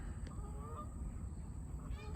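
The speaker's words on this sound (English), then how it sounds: "is not to be around geese when they're agitated" A flock of geese honks in a downtown park, several brief nasal calls at moderate distance over steady background noise, with no talking.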